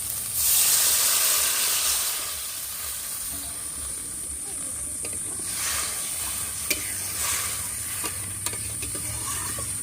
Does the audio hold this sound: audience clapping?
no